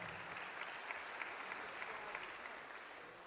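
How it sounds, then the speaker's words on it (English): An audience applauds parents at an honor band concert, a sustained wash of many hands clapping with a few sharper claps standing out, fading slightly toward the end. "I just told them they should applaud their parents."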